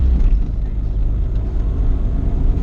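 A turbocharged B20 drag car runs down the strip, a loud deep engine rumble that holds steady and close, with heavy low-end roar throughout.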